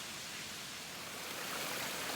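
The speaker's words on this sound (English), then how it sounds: "The waterfalls continue" Waterfalls along a hiking trail in Alabama pour in a steady, dense broadband rush, constant and fairly loud throughout with no voices or breaks.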